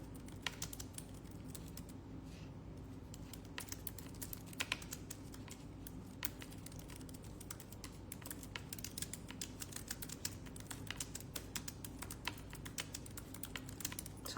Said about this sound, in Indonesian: Sorry, lagi ngetik sesuatu.